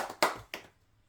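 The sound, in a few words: congregation clapping in a church service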